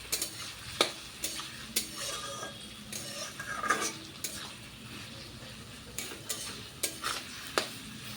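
Onions fry with a pinch of salt in a pan, a soft continuous sizzle broken by regular clinks of a spoon stirring against the metal, close and fairly quiet.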